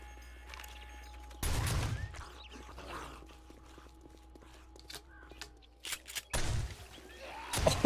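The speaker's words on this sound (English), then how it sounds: "Oh, I like the slugs in the turret." Turret firing slugs in the video game 7 Days to Die, two heavy bursts of booming gunfire separated by quieter clicks and rustling, with a faint low hum throughout.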